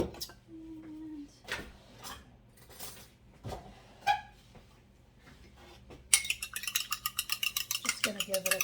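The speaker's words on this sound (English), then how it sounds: "just gonna give it a quick whisk here" Two whole eggs are whisked quickly in a bowl with a fast, rhythmic clicking, preceded by a few light utensil clinks, faint movement and quiet talk.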